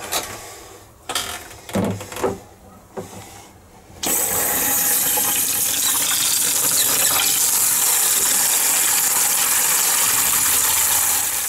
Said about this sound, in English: And then the kitchen sink.